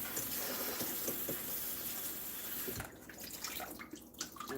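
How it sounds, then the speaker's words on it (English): Tap water runs from a faucet while fruit and ginger are rinsed, a steady splashing hiss that breaks into irregular patters and drips as the stream is interrupted. "I don't like using plain tap water to rinse"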